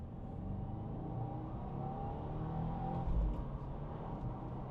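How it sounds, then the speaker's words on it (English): A 2026 Subaru WRX tS Kaminari Edition in Sport Plus mode revs hard under acceleration, its engine note climbing steadily and briefly overshooting near the top, loud and close with no talk. "A little bit of an over rev there from my side, but oh yeah, this thing gets up and moves"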